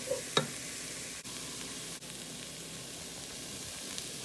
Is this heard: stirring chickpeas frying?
yes